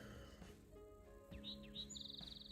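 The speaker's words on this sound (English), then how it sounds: "just listening to the birds. That's a spotted towhee." A spotted towhee calls a few short chirps, then a buzzy trill, faint and a little distant over a low background hum, on a morning on the Arizona Trail.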